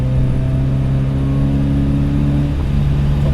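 A 1974 Alfa Romeo GTV 2000 sweeps past with a steady, loud mid-pitched engine drone, holding a sustained tone with a slight shift near the end as it passes close by.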